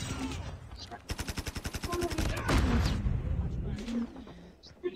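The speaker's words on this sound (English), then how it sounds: "someone's shooting at me" Video game gunfire rattles out in a rapid automatic burst of evenly spaced shots, loud and close, followed by more scattered firing over dense game noise while a player talks.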